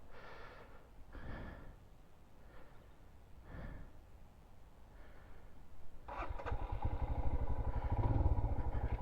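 A 2023 Royal Enfield Himalayan 411 motorcycle engine runs close by, its rough pulsing note rising into a louder, steadier roar in the final few seconds.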